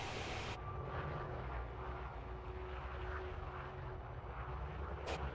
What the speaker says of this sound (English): And this is how you fly a Diamondback like a helicopter.